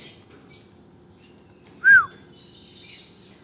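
An oriental magpie-robin (kacer) gives one short, clear chirp near the mic, with faint softer calls around it over a quiet background.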